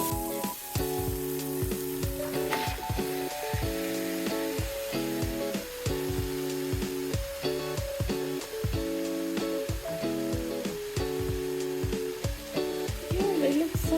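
Spinach sizzling and frying in a pan with garlic, onions and tomatoes, a steady crackling hiss throughout, with stirring and a voice talking over the cooking.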